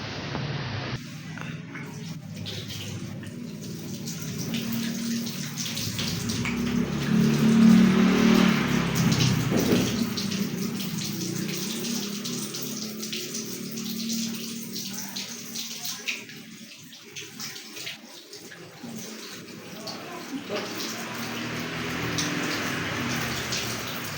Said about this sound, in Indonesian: izin saya cuci tangan terlebih dahulu ya Bu